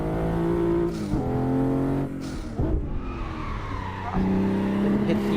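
Simulated Toyota Supra MK5 in a racing game, its engine droning steadily with shifting pitch, revs dropping and climbing again around brief tire squeals and skids, loud and continuous throughout.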